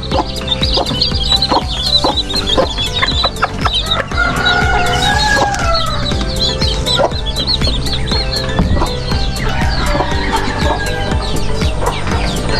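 Native chickens on a farm cluck and call steadily close by, joined by a chick's thin high peeps, with a rooster crowing partway through and no one speaking.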